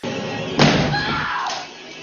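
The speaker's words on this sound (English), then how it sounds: "In The Shining, Jack Nicholson breaks through the bathroom door with an axe" A heavy wooden thud and splintering crack as an axe breaks through a bathroom door in the horror film The Shining, one sharp loud impact followed by a brief scraping tail.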